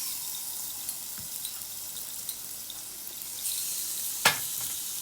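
Thick picanha steaks sear butter side down on a hot salt block, giving a soft, steady sizzle with a few faint clicks and one sharper crackle near the end.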